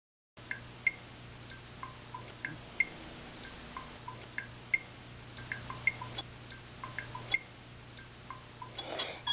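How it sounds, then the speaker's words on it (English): Water poured off a copper solution in a lab container makes a close, steady series of small, regular drips, ending in a short splash. "I'm going to go ahead and pour off as much of the water as I can without"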